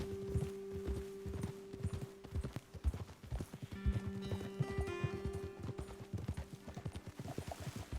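Horses' hooves clip-clop at a steady walking pace in a video game, close and clear, with an occasional whinny, under low background music tones and no talking.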